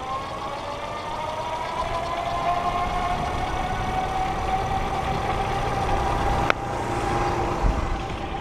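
A small EG Zurich 350 IX motorcycle pulls away on the throttle, its engine whine holding a steady note that climbs slowly as it gains speed, with a constant rush of wind and road noise and a sharp click near the end.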